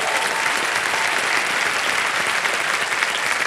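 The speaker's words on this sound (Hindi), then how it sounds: "एक बार जोरदार तालियां बज जाए।" Loud, sustained applause from a large studio audience on the game show Kaun Banega Crorepati, dense and steady clapping filling the whole stretch with no voices above it.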